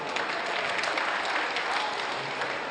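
Steady, dense applause from an audience at a mushaira poetry recital in Meerut, a continuous wash of clapping with no breaks.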